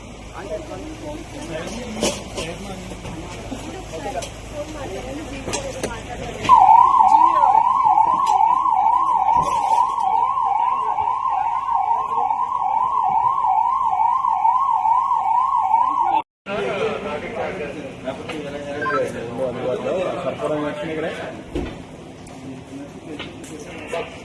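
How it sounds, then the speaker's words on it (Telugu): A police vehicle siren wails loudly and steadily in a fast rising-falling pattern for about ten seconds, preceded and followed by street noise and talking voices. "సైరన్ ఆన్ చేయమండి."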